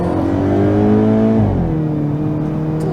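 A 2023 Hyundai Kona N accelerating hard, engine revs climbing loudly and close before a brief dip at a gear change, then pulling again with a strong, whirring drone.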